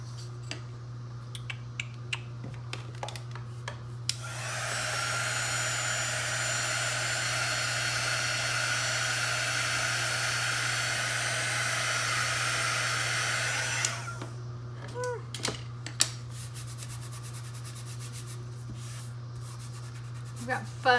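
A hair dryer blows steadily for about ten seconds to dry a clear coat on a wooden paint-stick sign, loud and constant, framed by quiet handling, rubbing and small clicks before and after, over a low steady hum.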